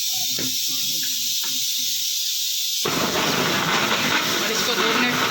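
A kitchen blender starts up partway through, mixing a mango milkshake of cold milk and mango; it sounds as a loud, close, continuous roaring whir. A voice is heard briefly before it starts.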